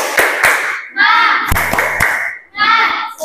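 Schoolchildren in a classroom do a rhythmic spirit clap, sharp hand claps in short patterned bursts alternating with loud group chanting, close and lively.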